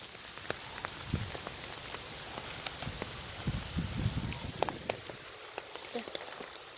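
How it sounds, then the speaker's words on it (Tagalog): Rain falls steadily outdoors around a home garden, scattered drops tapping and pattering on surfaces with a soft continuous hiss, with a few louder nearby splashes. "nag-ulan."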